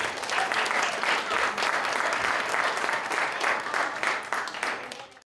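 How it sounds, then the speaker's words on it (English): An audience claps loudly and steadily for a group of girls who have just performed, dense sustained applause filling the room before cutting off abruptly. "So round of applause for the girls."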